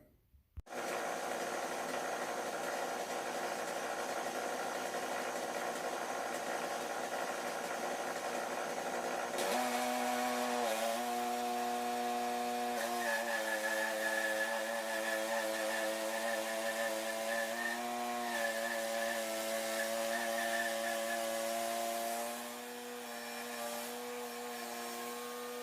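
Homemade-cooled Woodmizer LT10 sawmill cuts an elm board: a steady motor drone picks up a harsher blade-cutting tone partway through and holds it, with no talking.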